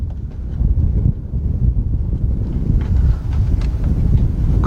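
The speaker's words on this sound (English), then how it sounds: "This wind is crazy out here." Strong outdoor wind buffets the microphone beside a 2003 Chevy Tahoe during a wheel speed sensor repair, a loud continuous low roar with rumbling gusts throughout and no speech.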